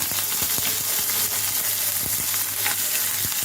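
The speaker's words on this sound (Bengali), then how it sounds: "এখন এখানে আমি এখানে একটু পেঁয়াজ কুচি দিয়ে দিচ্ছি" Chopped onion dropped into hot oil for a beef tripe curry, giving a dense continuous sizzle close up with occasional sharp taps and scrapes of a spoon against the pan.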